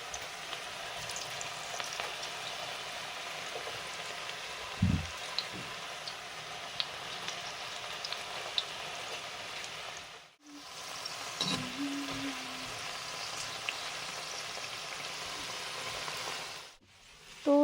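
Onion and potato pakoras fry in hot oil in a pan, giving a dense, continuous sizzle and crackle that stays steady and close, with two brief dips and a few faint knocks.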